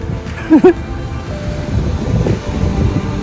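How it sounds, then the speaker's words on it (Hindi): Ocean surf on a beach near Konark at night, a low, continuous rumble of waves with wind noise on the microphone and a brief tonal chirp early on, no clear speech. "This is one of the most beautiful beaches."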